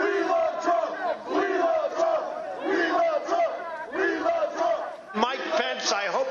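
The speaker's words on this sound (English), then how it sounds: "There's a crowd surge heading east." Crowd of protesters at a political rally chanting and shouting in unison, a dense, loud wall of many voices with rhythmic rising cheers throughout and a sharp surge near the end.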